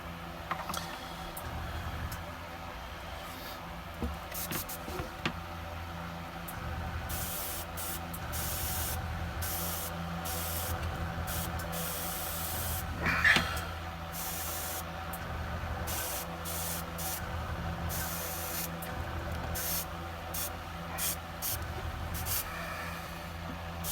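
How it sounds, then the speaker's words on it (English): An airbrush sprays paint onto a miniature in several bursts, a soft steady hiss that starts and stops between passes, quiet and close with faint ticks and no talk. "because the airbrush is running properly, there's no spatter, there's no gurgling"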